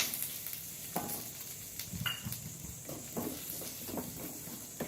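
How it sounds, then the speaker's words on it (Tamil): Three large onions sautéing in melted butter in a pan for spicy paneer butter masala, giving a soft, steady sizzle with occasional stirring scrapes, faint and close, with no talking. "மூணு பெரிய வெங்காயம் வதக்கிக்கிறேன்"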